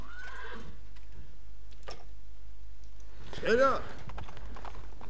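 In the medieval strategy game Stronghold Legends, a horse gives a short, loud whinny near the middle, along with faint hoof clatter. Someone shouts a brief command just before it.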